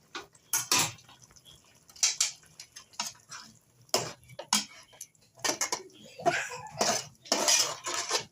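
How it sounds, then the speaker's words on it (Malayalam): Metal spoon scraping and clinking against a pot while chicken curry gravy is stirred, a run of irregular close knocks and scrapes with no talking. "നന്നായിട്ടൊന്ന് ഇളക്കി നന്നായിട്ടൊന്ന് തിളക്കണം"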